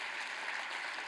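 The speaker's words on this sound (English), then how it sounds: "All right, round of applause for John" A brief burst of TEDx audience applause, dense even clapping from a crowd, heard faintly and without voices.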